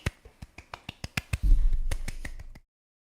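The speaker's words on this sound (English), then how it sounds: "Golf clap for him all around" A sparse golf clap, about eight slow, evenly spaced single claps that speed up slightly, then a brief burst of louder low rumbling noise before it cuts to silence.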